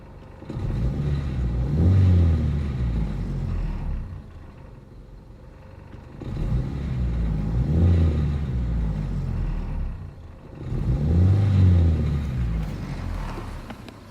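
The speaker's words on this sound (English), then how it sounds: "This thing is just purring right now." A 1995 Geo Prizm engine runs steadily during a vacuum test, a low, even rumble that swells and eases in three broad waves over about fourteen seconds, close and continuous with no voices.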